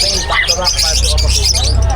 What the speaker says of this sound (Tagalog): Napakadaming ibon dito ni Sir Khalid.